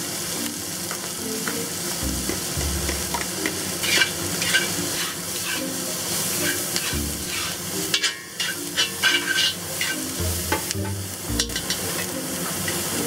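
Onions fry in hot oil in a wok and are stirred steadily, a constant close sizzle broken by scraping and clanking of the spatula every few seconds.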